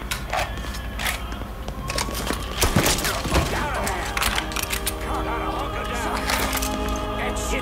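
Gunfire in the video game Mafia 3 crackles in sharp repeated bursts of shots, some close and loud, mixed with thuds and mechanical clicks as a voice shouts between them.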